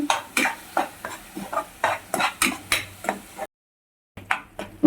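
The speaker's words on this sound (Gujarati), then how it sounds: "પછી એના જીરા સાથે સાંતરીશું ડુંગળી આપણી થોડી બ્રાઉન થાય ત્યાં સુધી સાંતળવાની છે" Onions sautéing with cumin in a pan for spicy misal, with a spoon scraping the pan in quick regular strokes over a light sizzle, a short silent gap, then a few more strokes.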